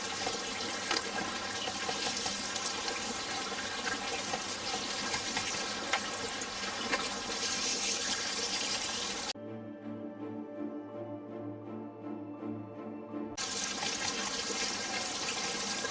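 Tap water runs in a steady, continuous stream while magnet fishing finds are being cleaned, a loud broadband rush that briefly drops to a quieter trickle before returning at full flow, with no talking.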